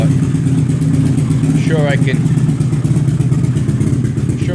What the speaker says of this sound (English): I can rev some of those little coughs out of the exhaust.